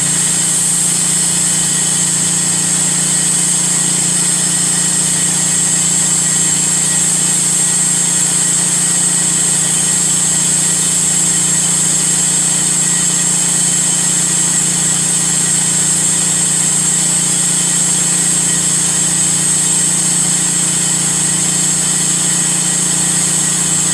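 Steady, loud motor drone and hiss of a pressure washer rinsing house siding at low pressure during soft washing in Waterford, Wisconsin, continuous and unchanging throughout with no talk.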